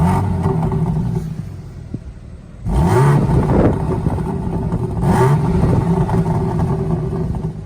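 A BMW M3 six-cylinder engine idles with a steady low rumble, then revs sharply twice, each blip rising and falling back to a throaty idle, heard up close and loud.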